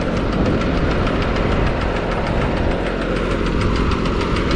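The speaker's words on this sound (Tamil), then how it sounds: "இப்போ வந்து இந்த டிராக்டரை வச்சு" A tractor engine pulls a fishing net, chugging loudly and steadily with a knocking, vibrating rhythm up close, no voices over it.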